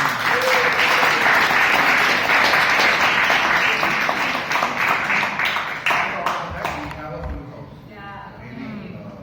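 Applause fills a Toastmasters meeting held during rain, dense clapping from the group for several seconds before thinning into scattered claps and fading as a voice starts speaking near the end.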